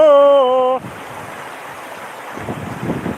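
Water rushes steadily through a village after rain, a continuous broad wash that rises a little toward the end, following a brief sustained sung tone at the start.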